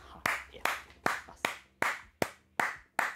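Eight sharp hand claps ring out at an even, unhurried pace, each one crisp and close with a short decay between.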